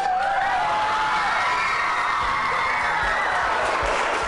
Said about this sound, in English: When the cheering finally ended